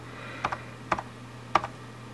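Three separate key presses on a Logitech G710+ mechanical gaming keyboard with Cherry Brown switches, each a soft clicky double tap, spaced about half a second apart over a steady low hum, with no talking.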